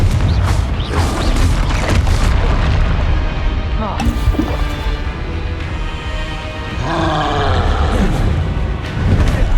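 Fire spell explosions cast in the video game Hogwarts Legacy, loud booming blasts and crackling magical bursts layered with dense game effects, running continuously at high level across the scene.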